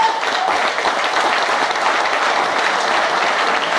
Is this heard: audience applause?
yes